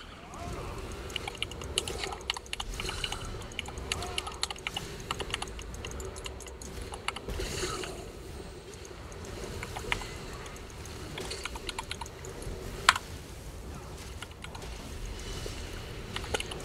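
Rapid, steady keystrokes on a computer keyboard while playing The Elder Scrolls Online, with clicks running throughout over faint game background sound and one sharp louder tap near the end.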